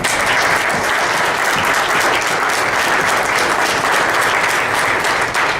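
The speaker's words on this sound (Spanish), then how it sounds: "Entonces yo les pido que me acompañen recibiéndolos con un aplauso." A forum audience on indigenous shelters in the Sierra Tarahumara breaks into loud, steady applause that fills the room. The dense clapping holds evenly throughout with no break.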